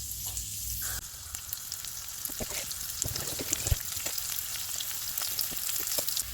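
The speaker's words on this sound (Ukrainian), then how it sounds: "Обсмажую нарізане сало до рум'яності." Diced pork fat sizzles and crackles steadily in a hot pan, with occasional pops and stirring noises.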